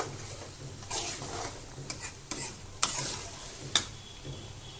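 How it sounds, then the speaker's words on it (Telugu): Tomato chutney is stirred in a hot pan, with a low sizzle underneath and several sharp metallic scrapes and taps of a spoon against the pan. "ఆ టమాటా ఉడికింది ఉంది కదా దాంట్లోనే వేసి మొత్తం కలుపుకోవాలి"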